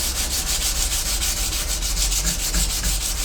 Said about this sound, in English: I just need you to do a little bit of hand sanding for me on a sword.